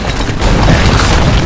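A castle crumbles under attack in Stronghold Crusader, a dense, loud, continuous rumbling crash of collapsing masonry filling the whole brief moment, with no voices.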